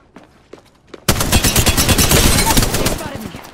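Gunfire in the video game Apex Legends erupts after a few quiet seconds into a dense, loud stream of rapid automatic shots with sharp, crackling impacts that continues to the end.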